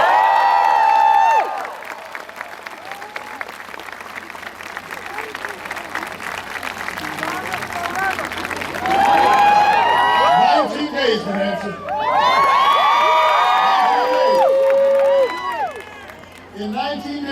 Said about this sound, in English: Give Ellie a big round of applause.